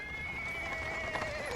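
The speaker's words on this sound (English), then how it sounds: "A cart drawn by a sad little horse appears from around the corner." Horse hooves clip-clop steadily while a cart is pulled along paving stones in the fantasy game Pathfinder: Wrath of the Righteous, with an occasional faint whinny over a constant ambient bed.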